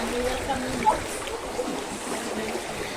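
Waves break against large rocks at Millionaire Beach in Hong Kong, a steady washing surf with small splashes heard under people talking nearby.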